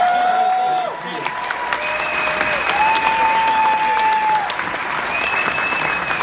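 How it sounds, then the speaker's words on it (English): Loud, sustained audience applause for Jamie Kennedy at a horror convention panel, a full crowd clapping continuously with cheering and whistles mixed in. "I'd like to give a big round of applause, show some love for Jamie Kennedy."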